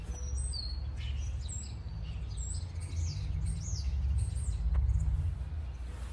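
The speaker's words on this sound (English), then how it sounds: "Do you hear the red-bellied woodpecker?" Repeated high, short calls of a red-bellied woodpecker over a steady low rumble outdoors in a garden, a bright chirping series at moderate distance.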